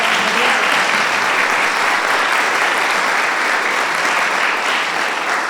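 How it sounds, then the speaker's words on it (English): An audience breaks into sustained, dense applause for a musical performance at a poetry event, loud and even throughout. "I would like to surround with applause for the music."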